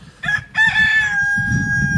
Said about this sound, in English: there are obviously going to be lots of chicken noises in this video